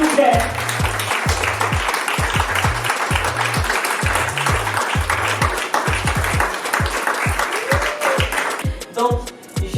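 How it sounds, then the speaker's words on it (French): An audience at a women's summit applauds warmly as Miss Ingrid arrives, the steady clapping sustained for several seconds over a thumping rhythmic music beat, with some cheering voices mixed in. "Accueillons avec beaucoup d'acclamation, s'il vous plaît, Madame Miss Ingrid"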